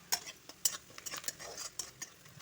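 Onion and ginger-garlic paste cooking in a pan for veg fried rice, with a faint sizzle under repeated sharp clinks and scrapes of a utensil stirring against the pan, close and irregular.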